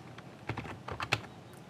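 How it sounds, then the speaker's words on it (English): Fingers tap out text on a computer keyboard in a quick, irregular burst of close, light key clicks, quiet overall. "type in your text"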